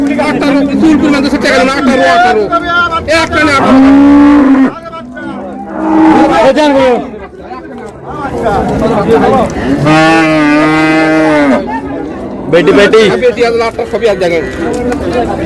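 At the Raniganj cattle market in Dinajpur, dairy cows and calves let out several loud, drawn-out moos close by, amid the hubbub of voices and market noise.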